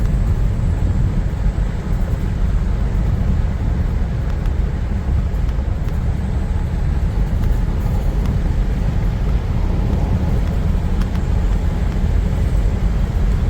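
Continuous loud rushing road and wind noise inside a moving car driven with its windows open because the air conditioning is faulty, a steady broadband roar throughout with no voices.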